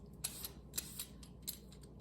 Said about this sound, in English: This is very easy with this very sharp peeler.